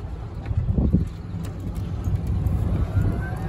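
A 2022 Obsidian Black Evolution Pro 4 Plus four-passenger golf cart accelerating uphill, a low, quiet electric drive hum with rumble and light wind noise, fairly steady throughout.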